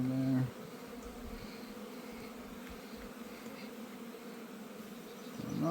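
Honeybees in an open hive during a brood inspection give off a steady, soft buzzing hum that stays even throughout, with a brief louder tonal sound at the start and end.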